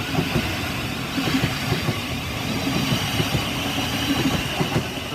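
A train pulls out of Gatwick Airport station, its wheels clattering in a steady rhythm over the rails with a broad mechanical rumble, loud and close throughout.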